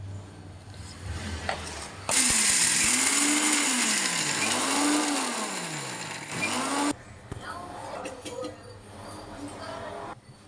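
A kitchen mixer grinder powders roasted peanuts and sesame seeds in a loud, close whirring burst lasting about five seconds, with its motor pitch rising and falling, then stops abruptly, and a voice talks before and after.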